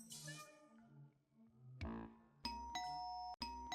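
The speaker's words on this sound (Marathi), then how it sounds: "बेल वाजली का?" A home doorbell chimes in clear ding-dong tones, one ring followed by a second sharper chime, with a faint tonal background before it and no voices.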